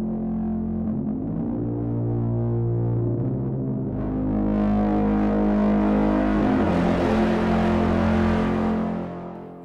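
A sustained, heavily distorted synth tone with gritty buzzing harmonics that grows brighter and harsher partway through, then cuts off at the end.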